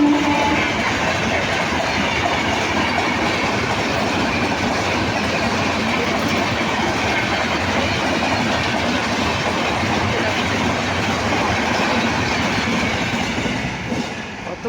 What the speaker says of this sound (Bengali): আবার একটা ট্রেন রয়েছে আসছে, চলো দেখায় এক্সপ্রেস।